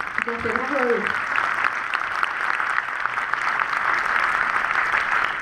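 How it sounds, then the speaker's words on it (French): Sustained audience applause at a festival closing gala honouring volunteers, a steady wash of many hands filling the room, with a brief voice speaking near the start. "je voudrais qu'on les applaudisse pour le travail exceptionnel qu'ils ont encore réalisé cette année"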